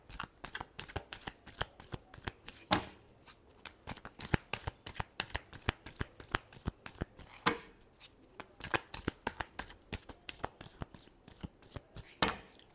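Tarot cards shuffled by hand in a steady stream of sharp, rapid riffling flicks and taps, close and clear, with no talk over them.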